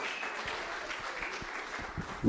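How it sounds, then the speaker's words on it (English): An audience at a university vice-chancellor's distinguished awards ceremony breaks into applause, a fairly quiet, roomy wash of clapping with some individual claps standing out. "Give yourselves a round of applause."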